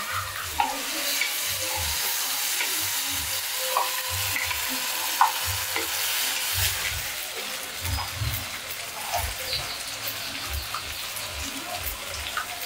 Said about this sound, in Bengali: আদা রসুন পেস্ট করেছিলাম, সেই পেস্টটা দিয়ে দিলাম